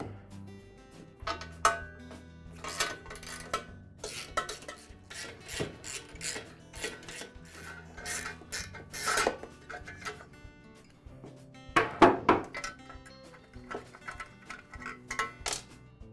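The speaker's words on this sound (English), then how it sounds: "now we can remove the muffler cover" Metal parts clink and scrape in irregular bursts as the muffler cover comes off a small engine, with scattered close-up taps, rasps and rattles and no speech.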